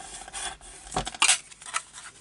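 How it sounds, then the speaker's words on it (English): A bone folder rubs firmly over folded paper during gift-box making, giving a few short, soft scraping strokes, close by and fairly quiet. "going with my bone folder and give these a really good burnish"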